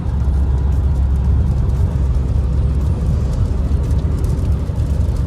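A Peugeot 3008 driving on the road, heard from inside as a steady low engine and road rumble with constant tire noise throughout.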